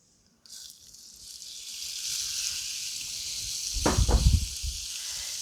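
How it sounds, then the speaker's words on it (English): Peeled, deveined shrimp with tails on hit a hot pan after a barbecue rub was toasted, starting a loud steady sizzle that builds and stays constant, with a couple of sharp crackles partway through. "And now we're just going to toss in our shrimp."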